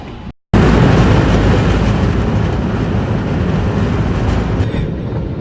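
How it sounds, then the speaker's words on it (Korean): San Francisco cable car ride, loud rumbling rail noise with clattering wheels, continuous and close after a brief silent gap at the start. "바로 샌프란시스코 최고의 명물 케이블카를 타기 위해서였습니다."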